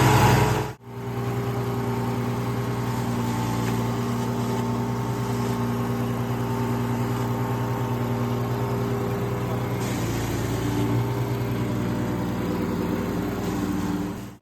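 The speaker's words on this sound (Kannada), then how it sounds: "ಇವತ್ತು ರೆಡ್ ವುಡ್ ಚಿಪ್ಪರ್ನ ಒಬ್ಬರು ಕಸ್ಟಮರ್ಸಿಗೆ ತೋರಿಸ್ಕೊಡಕ್ಕೆ ಬಂದಿದ್ದೀವಿ, ಹೇಗೆ ವರ್ಕ್ ಆಗುತ್ತೆ ಅಂತ" A petrol engine on a wood chipper runs at a steady idle, a loud, even hum with a brief break right at the start and no voices.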